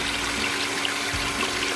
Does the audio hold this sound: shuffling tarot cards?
no